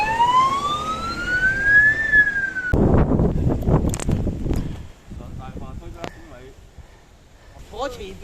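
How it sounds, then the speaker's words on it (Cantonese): Ambulance siren wailing in a rising and falling sweep, loud and fairly close at first, then cut off as people begin talking nearby, with faint siren-like tones lingering behind the voices, on Lantau Island country park trails. "救護車"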